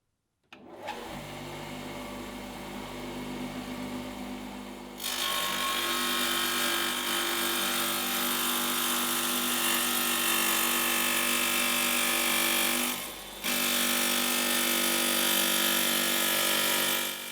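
A Husqvarna TS 230 F electric tile saw runs loud and steady, its motor whine stepping up as the wheel bites into tile, with a brief dip before cutting resumes; no one speaks.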